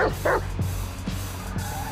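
A dog barks in Grand Theft Auto 5, with several sharp yips and woofs close up over a steady low in-game rumble.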